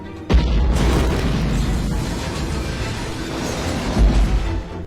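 A bomb explosion destroys a house with a sudden heavy boom, followed by a long rumbling roar of blast and falling debris that lasts several seconds, then a second surge before fading.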